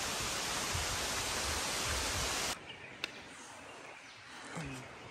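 Talakona waterfall in the forest, a loud broad rush of falling water that cuts off halfway, leaving quieter forest ambience with faint distant sounds.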